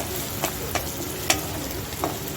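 Onions frying in a pan for a spicy katla fish kalia hiss steadily while a spatula stirs them in four sharp, spaced scrapes, close by with no talk.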